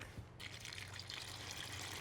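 Milk pours steadily into a bowl of instant vanilla pudding mix, a continuous close liquid stream with no voices.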